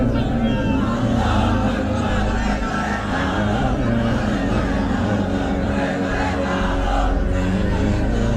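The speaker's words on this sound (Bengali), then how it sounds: "স্লোগান লাগবে। স্লোগান দেন একজন।" A crowd chanting a slogan together at a religious gathering, loud and continuous voices in rhythmic waves that fill the whole stretch without a break.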